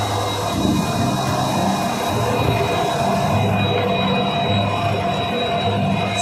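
Karwar Express hauled by a WDP4 diesel locomotive on a ghat section, heard as a constant loud rolling rumble with steady high wheel squeal and rhythmic clatter throughout.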